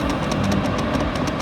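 A Chinese diesel heater turned down to its lowest tick-over speed hums with a low, steady engine-like drone and rapid faint rhythmic ticking, close and continuous.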